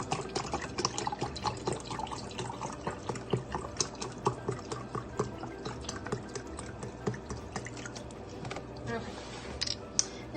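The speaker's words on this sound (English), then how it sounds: "first thing I'm going to do is pour 2 cups of the chicken broth." Chicken broth pours into a long crock pot, a continuous liquid splash and trickle at close range with small clinks, fairly quiet, under a voice talking.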